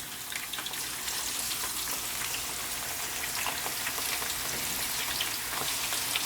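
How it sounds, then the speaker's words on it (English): Fish frying in a pan of hot oil seasoned with pimento seeds for Jamaican escovitch fish, a steady dense sizzle and crackle like heavy rain, close and continuous with no voices. "Then I'm gonna add my fish. We're gonna allow this to fry."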